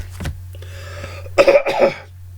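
A single short cough near 0.3 seconds, then a couple of rough, throaty coughs or throat-clearing bursts close up, over a steady low hum.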